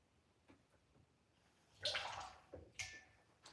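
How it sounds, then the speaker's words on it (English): Tap water runs into an Instant Pot, a faint splashing gush in two short bursts that are soft and close, with no talking. "first thing I gotta put some water in here."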